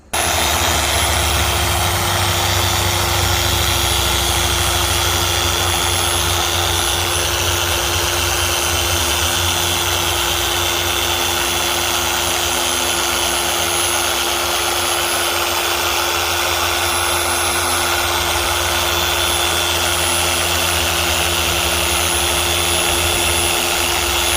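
A dual action polisher works a scratched plastic window on a Jeep soft top, giving a loud, steady, close-up whir that runs unbroken from start to finish with no talking.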